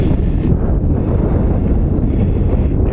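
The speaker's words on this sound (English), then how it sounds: "And windy." Strong blizzard wind in Wisconsin buffets the microphone in a steady, loud roar with rumbling gusts, filling the scene without any talk.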